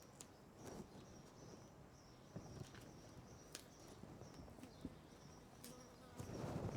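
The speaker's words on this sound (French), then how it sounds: "Mais putain de mouche, casse-toi." A housefly buzzes intermittently around a room during a Nintendo 3DS XL repair, faint and thin, coming and going over quiet background with scattered small handling knocks.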